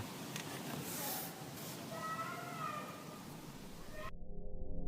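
A big cat yowls in a forest, a drawn-out wavering cry rising and falling over steady outdoor background noise, alone without talk, cut off abruptly near the end.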